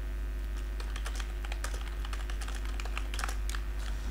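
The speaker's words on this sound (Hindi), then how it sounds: "मैं इसके अंदर आपको थोड़ा टाइप करके बताता हूँ।" Fingers type on a computer keyboard with quick, irregular clicks of varying loudness over a steady low hum, with no voices.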